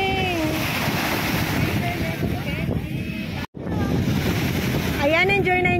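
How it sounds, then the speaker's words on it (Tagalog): High-tide waves from Manila Bay wash over children playing at the shore, a steady roaring surf with wind buffeting the microphone throughout, and brief high squeals or whistles rising above it. "At humahampas yung alon sa kanila."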